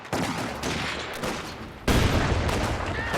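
Dense bursts of machine gun fire and battle noise from the Company of Heroes 2 strategy game, continuous and loud, with a heavier salvo kicking in partway through.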